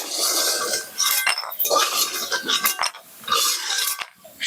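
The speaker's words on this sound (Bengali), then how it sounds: "বড়ি তো ভাজা হয়ে গেছে, এবার আমি বড়িগুলো তুলে নেব।" Fried lentil dumplings (bori) are lifted out of a hot pan for Bengali shukto, with close metallic scrapes and clinks of a utensil against the pan over crackling oil.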